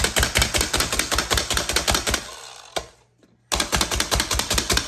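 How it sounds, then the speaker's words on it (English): Rapid, close-up clacking of an OXO plunger-style food chopper working through seaweed, a steady stream of sharp strikes that slows, breaks for a moment of near silence, then resumes at full pace. "This will chop your stuff up so fast into little pieces."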